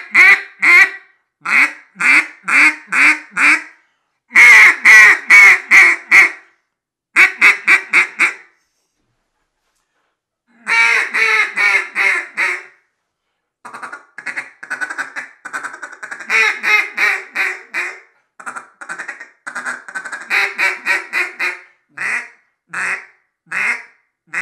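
Ivory Field Proven duck call blown in short bursts of quacks, loud and close, with runs of several rapid quacks separated by pauses.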